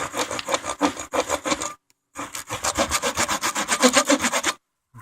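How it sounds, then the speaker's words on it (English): The serrated edge of a SportsTek survival shovel saws back and forth through a tree limb, rapid rhythmic rasping strokes close by, pausing briefly midway and then resuming before stopping. "let's use the serrated end to see how it does on this limb"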